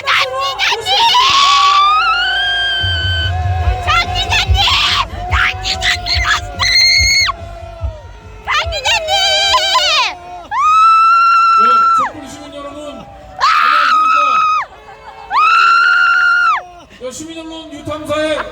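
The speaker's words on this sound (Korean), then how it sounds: "유탐사 강진구 기자님을 박수로 모시겠습니다" A large crowd at a candlelight rally erupts in loud bursts of cheering, shouting and shrill high calls that come in waves separated by brief lulls.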